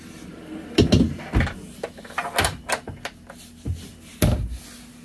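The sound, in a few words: drawer opening and closing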